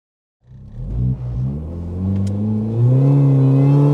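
A modified Mini Cooper R53 JCW with its pollen filter removed launches from a standstill, the supercharged engine rumbling and climbing steadily through the revs in one loud, close, continuous pull.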